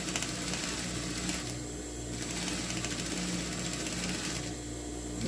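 Sewing machine stitching a seam on a broderie cushion, a faint steady whirring run with two brief slowdowns.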